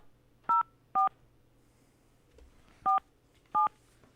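Telephone keypad tones ring out as a number is dialed: four short, clean beeps, two close together, then a pause, then two more, against a quiet, faintly humming room.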